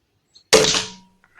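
A Kral Mortal X air rifle fires a QYS Streamline 9.56 grain 4.49 mm pellet, one sharp close crack with a short decaying tail, alone in quiet surroundings.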